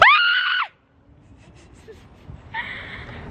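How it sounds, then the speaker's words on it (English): A person lets out a loud, high, sharp scream at the start, with faint murmuring voices and another high cry rising after a short quiet gap. "I'm so used to you screaming,"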